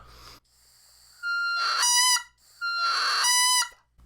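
A bagpipe chanter reed is blown on its own to make it crow. It gives two long, squawking tones with bright harmonics, each rising in pitch partway through and separated by a short breathy pause.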